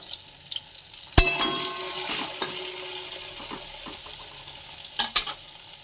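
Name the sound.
frying eggplant in a pan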